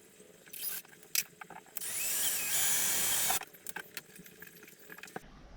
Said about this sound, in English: I'll just drill through the cabinet